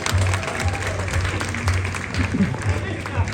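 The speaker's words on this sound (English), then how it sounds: "Give a round of applause, everybody!" An audience claps and cheers for a street performer in San Francisco, a steady dense wash of applause with a voice calling out loudly over it.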